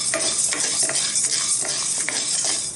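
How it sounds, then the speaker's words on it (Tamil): Black pepper, cumin and coriander are dry roasted to a golden colour in a pan, stirred with a continuous close scraping and faint rustling of the spices. "பொன் வறுவல் வறுத்துக்கணும்."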